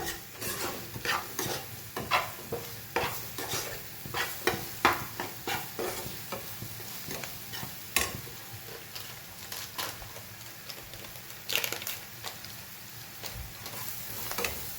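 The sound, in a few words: stirring and mixing food in a pan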